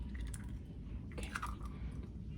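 A large serving fork stirs cornbread batter with a fresh egg in it, producing soft, close wet squishing and scraping sounds at a quiet, continuous level.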